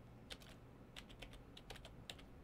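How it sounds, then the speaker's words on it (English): Keystrokes on a computer keyboard as names are typed into a FileMaker property management database form: scattered quick clusters of soft clicks with short pauses between, fairly quiet and close, with no voices. "I'm just typing things in there, right?"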